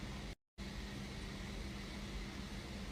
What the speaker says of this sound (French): La clim en bas, elle est plus forte que la tienne.